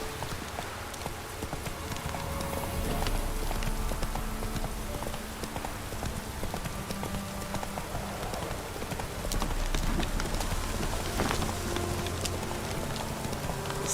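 Horse hooves galloping steadily in The Witcher 3, a continuous rapid clip-clop close up and fairly loud over a dense, rain-like game backdrop, with no talk.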